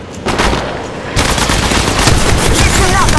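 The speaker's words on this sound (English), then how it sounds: "The enemies are shooting at me." Enemies shooting in the mobile battle royale game Apex Legends Mobile: loud, continuous automatic gunfire in fast rattling bursts that intensify partway through and stay dense and close throughout.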